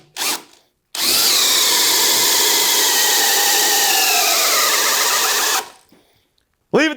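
A DeWALT XR cordless hammer drill is triggered once briefly, then runs loud and close at full speed for nearly five seconds with a high whine before spinning down, and a short burst comes at the end.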